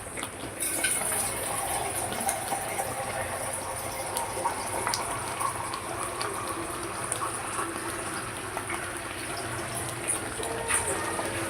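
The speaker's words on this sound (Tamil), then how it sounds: "தண்ணி விட்டுங்க தேவையான அளவுக்கு." Water poured from a vessel into a pot of spicy village-style vaval fish curry (pomfret), a steady splashing, gushing fill that continues throughout, fairly close, with some faint background noise.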